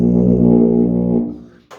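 A tuba played as a warm-up with poor air support and puffed cheeks gives a loud, buzzy, sustained low note. It lasts about a second, then breaks up and fades, and a brief sharp noise follows at the end.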